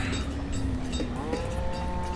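A cow moos in a pasture in the video game Banished, one long low moo that rises in pitch near the end, clear and close over a quiet background.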